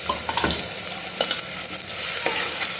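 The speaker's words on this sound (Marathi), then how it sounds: "भरपूर असा कांदा तेलावर टाकून घेते आणि छान असं तांबूस होईपर्यंत परतून घ्यायचं आहे" Plenty of onion with two cinnamon pieces frying in hot oil for mutton cooked in a pressure cooker, a dense continuous sizzle with occasional stirring scrapes, close up and with no voice.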